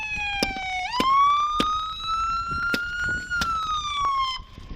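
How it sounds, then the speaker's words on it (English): A loud police siren wails continuously during a traffic stop, its pitch sliding up and holding high, with sharp clicks and knocks breaking in throughout. "Go turn that off. Turn that siren"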